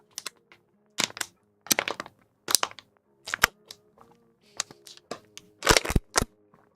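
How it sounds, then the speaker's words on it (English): An empty plastic water bottle is crushed and squeezed in repeated bursts of sharp crackling crunches, about a dozen close, loud pops and snaps separated by short pauses, with no talking. "that is the sound of an empty water bottle"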